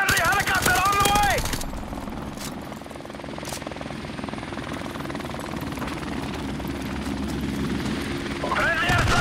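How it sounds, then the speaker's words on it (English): Helicopter in the Call of Duty 4 Modern Warfare Remastered video game, a steady, loud whirring rotor drone that holds for several seconds, with a voice heard at the start and again near the end. "Friendly helicopter on the way!"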